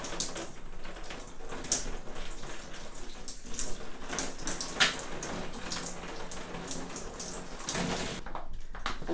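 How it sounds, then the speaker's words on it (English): Shower water runs steadily over a body during a coffee scrub routine, a continuous close hiss of spray and splashing with small fluctuations, no talking. "you've got to wet your whole body, and then you're going to take a handful of this"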